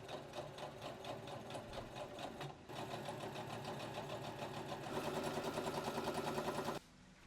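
A sewing machine stitches a curved seam on a sleeveless wrap top, running in fast, even bursts of stitching. It pauses briefly partway through, picks up speed again, then stops abruptly near the end.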